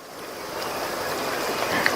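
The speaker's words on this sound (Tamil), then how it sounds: "இன்னொரு கப் தண்ணி சேர்க்கிறேன்" Water is poured into dosa batter for easy bachelor tiffin cooking, a soft continuous rushing splash that builds slightly louder toward the end, heard alone.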